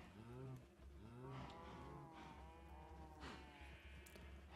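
A herd of Minecraft cows lowing in the game, repeated moos rising and falling in quick succession, close and steady, with no voices.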